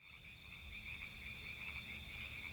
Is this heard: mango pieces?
no